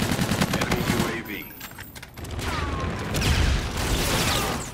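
Rapid gunfire from a Call of Duty: Infinite Warfare team deathmatch as a player shoots down an enemy UAV, a dense fusillade of shots under game effects and a speaking voice, swelling louder toward the end.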